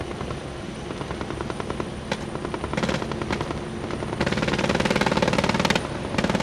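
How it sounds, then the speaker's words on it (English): Super Lynx and Phoenix multi-role maritime helicopters fly past at a live-fire exercise, their rotors giving a loud, steady chopping roar that swells toward the end with sharp rhythmic blade slaps. "the Super Lynx and Phoenix are multi-role maritime helicopter and can be deployed either from ship or shore"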